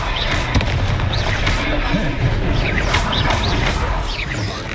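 A Confringo fire spell detonates in the video game Hogwarts Legacy, a loud burst of blasts and crackling impacts filling a few seconds under background game noise.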